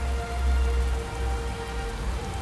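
Steady rain falls on a surface, a soft continuous hiss with a low rumble underneath, moderately loud and with no voices.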